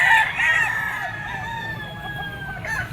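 A yellow-legged muff stag gamecock crows with a long drawn-out call, close and loud, over steady background noise with a brief cluck near the end.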